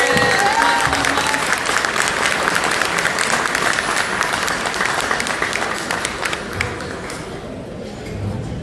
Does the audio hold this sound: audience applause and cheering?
yes